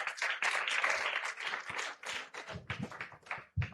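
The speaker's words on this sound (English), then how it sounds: "Please, can everyone give these contestants a round of applause?" Audience applause for contestants at a Nigerian pharmacy quiz competition, a dense burst of clapping from a room of people that thins into scattered claps toward the end.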